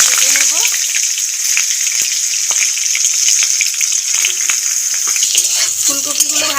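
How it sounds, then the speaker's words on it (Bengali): Steamed cauliflower frying in hot white cooking oil, a loud continuous close-up sizzle with occasional stirring clicks and light pops. "ভাপানো ফুলকপিগুলো ভেজে নেব।"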